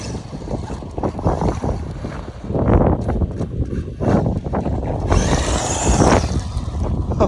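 A fast 3D printed RC car drives near the microphone with continuous rushing, whirring motor and wheel noise over heavy wind buffeting, rising and surging as it speeds by.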